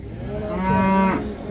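A calf at a livestock market lets out one drawn-out moo, close and clear over a steady market background.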